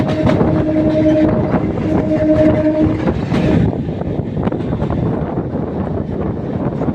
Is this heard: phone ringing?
no